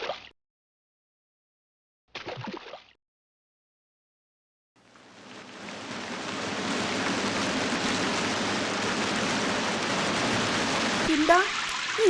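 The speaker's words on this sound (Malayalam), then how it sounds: "എന്താ ഈ മഴ ചോരുന്ന ലക്ഷണമില്ലല്ലോ." Rain falls in a Malayalam children's cartoon, a soft steady hiss of downpour that fades in after a few brief, short sounds separated by silence and then holds at an even level.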